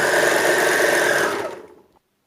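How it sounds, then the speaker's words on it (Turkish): An overlock machine runs fast and close as it sews the seam of a boy's shorts, a dense mechanical whir that winds down and stops after under two seconds. "Evet bel kısmından başladım overlock'ını gitmeye şu şekilde."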